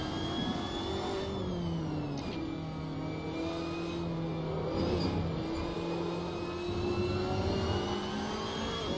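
Ferrari 458 engine in the Assetto Corsa racing game on the Algarve International circuit, a continuous droning engine note that rises and falls through gear changes, steady and prominent with no talk.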